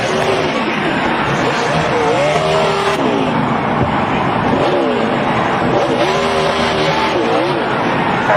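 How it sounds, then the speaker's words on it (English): NASCAR stock car spinning out on track, a loud continuous engine roar with swooping pitch changes and tire squeal, crowd and track noise throughout, with a commentator talking over it. "Oh, he's going to spin Denny. Denny is spun out"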